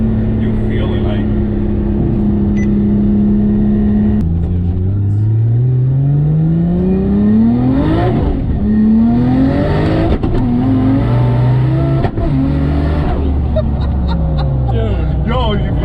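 A 700HP Nissan R32 on radial tires accelerating hard, its engine climbing through the revs in loud rising sweeps with gear changes between, heard close from inside the car, with people talking over it.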